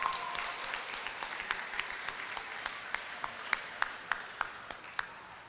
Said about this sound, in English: Could I get one more round of applause for all participants first?